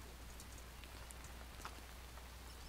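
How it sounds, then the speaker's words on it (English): Acid rain falls in the Starbound video game as a faint, steady patter with a few brighter droplet hits over a low hum. "It's acid rain."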